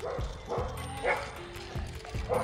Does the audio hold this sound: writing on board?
no